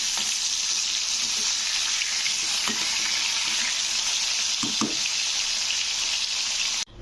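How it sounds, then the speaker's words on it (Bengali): Pieces of rohu fish frying in hot oil and being turned over, a loud, steady, close sizzling hiss throughout, broken by a few faint knocks of the turning spoon. "তো এইভাবে কিন্তু মাছগুলো উল্টে পাল্টে একটু ভেজে নিতে হবে ভালো করে।"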